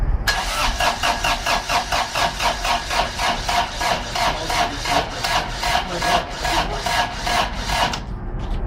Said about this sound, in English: So the starter motor has to keep it. Now the compression started to build up.